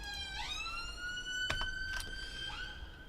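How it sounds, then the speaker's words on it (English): A siren wails in the background, rising and falling in pitch with several sweeping tones, steady and moderately distant throughout, with no talking over it. "you'll probably can hear a siren in the background"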